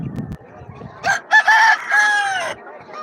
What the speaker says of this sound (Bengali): দেখতে পাচ্ছ কত বড় মুরগিটা